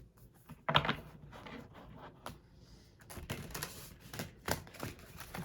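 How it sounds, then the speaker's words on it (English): Quiet, irregular clicking and riffling of a thick, chunky tarot deck being shuffled by hand, close up, with soft taps between. "This deck is like difficult to shuffle because it's so chunky"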